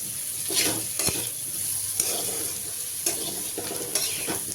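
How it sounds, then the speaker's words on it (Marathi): Potatoes frying in a pan for sabudana khichdi are stirred with a utensil, steady hissing sizzle under repeated scraping strokes, close and alone without speech. "आपण बटाटा परत एकदा छान मिक्स करून घेऊयात।"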